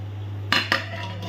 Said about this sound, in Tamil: இதை வந்து ஒரு மூடி போட்டு மூடி வச்சுருவோம்.